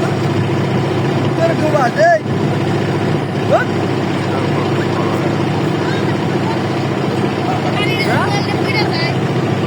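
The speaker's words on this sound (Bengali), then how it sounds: "বহুদিন পরে নৌকায় উঠলাম" Boat engine droning steadily throughout a river boat ride, a constant loud rumble with water wash, while people talk over it.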